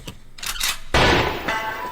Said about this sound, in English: I like that gunshot at the beginning.